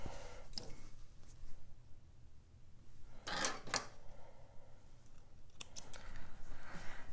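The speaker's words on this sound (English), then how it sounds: "Clip your threads." Scissors snipping sewing threads after a seam, a few crisp close clips in quiet, spaced irregularly with a pair of quick snaps in the middle.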